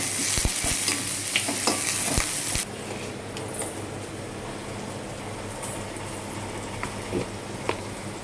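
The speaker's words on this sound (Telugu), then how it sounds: "సగం చెంచా అల్లం వెల్లిపాయ పేస్ట్ వేసుకుంటున్నాను. వేసుకొని బాగా కలుపుకోవాలి." Ginger-garlic paste sizzles steadily in a hot pan while a spoon stirs it, with scraping clicks scattered through. The opening stretch is louder and brighter, then the frying settles to a softer, even hiss.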